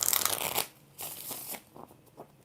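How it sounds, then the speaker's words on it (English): A deck of tarot cards gets shuffled by hand in three quick riffling bursts, the first louder and crisper, the next two softer, heard close with no talking. "3 more shuffles."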